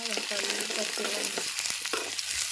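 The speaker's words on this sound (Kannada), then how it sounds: "ಒಂದು ಉಳ್ಳಾಗಡ್ಡಿ ಎಲ್ಲ ಫ್ರೈ ಅಲ್ರಿ ಎಣ್ಣೆ ನೋಡ್ರಿ" Onions frying in hot oil in a pan with mustard seeds, a continuous close sizzle with a few quick stirring scrapes, no talk.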